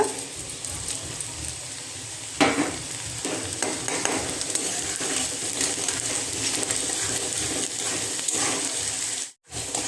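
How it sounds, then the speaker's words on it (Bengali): Red lentils frying with garlic and dried chilli in hot oil give a steady, loud sizzle close by, broken by scraping stirs of a spoon in the pan, with no one talking. "মসুর ডালটা দেওয়ার পর আমি একটু নেড়ে চেড়ে দিচ্ছি"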